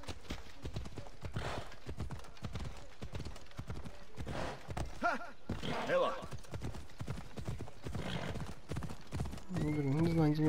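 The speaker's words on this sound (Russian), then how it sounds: "Так, лошадка." Horse hooves clip-clop steadily in the game Assassin's Creed Odyssey, a rapid rhythmic trot with a whinny, mixed with game sound and someone talking over it.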